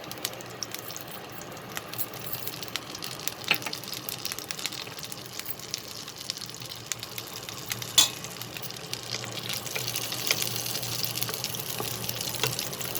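Cumin seeds frying in oil still holding water from pointed gourd, a soft steady sizzle with scattered sharp pops and spatters, close and fairly quiet, growing slightly busier toward the end.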